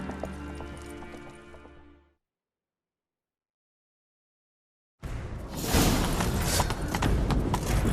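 Rapid hoofbeats of a galloping horse in the video game The Witcher 3: Wild Hunt, loud and steady, then a silent gap of several seconds before a busier burst of galloping and rushing movement.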